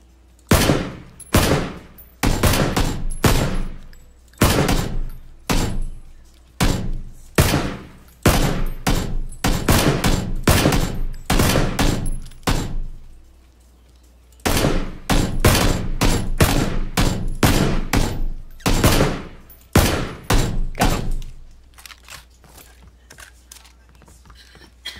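Rapid bursts of gunfire from PlayerUnknown's Battlegrounds ring out loud and sharp, many single shots in quick rhythmic runs with one brief pause midway, and no voices over them.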